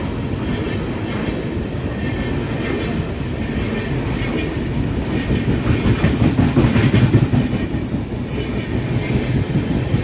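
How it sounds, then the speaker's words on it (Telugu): The Karnataka Sampark Kranti superfast train, running Yeshwantpur to Hazrat Nizamuddin, rumbles past close by with a steady clickety-clack of wheels on rails and faint wheel squeal, loud and continuous throughout. "కర్ణాటక సంపర్క్రాంతి యశ్వంత్పూర్ టు హజ్రత్ నిజాముద్దీన్."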